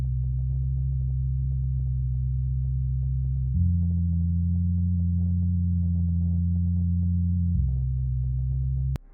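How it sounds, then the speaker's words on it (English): A sustained synth bass pattern for an ambient indie song holds low tones, shifting pitch once midway and then back, with faint ticking textures above, steady and loud with no voices. "This serves as the bass to our song."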